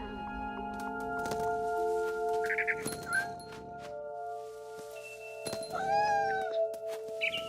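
A cat in the video game What Remains of Edith Finch meows and yowls several times, close and fairly loud, mixed with game music tones and brief rustling thuds.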